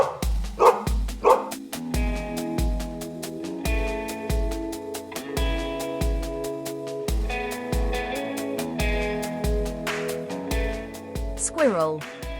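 A dog barks repeatedly in short rhythmic bursts over a bright, tonal musical backing that plays throughout, with no voices, ending in a quick rising sweep.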